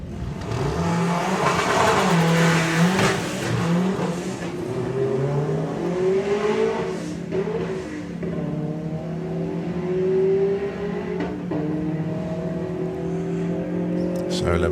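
Volkswagen fastback drag racing car making a qualifying run at a VW drag racing national finals meeting: a loud, sustained engine roar with rising revs and gear changes that dominates throughout, with a commentator talking over it.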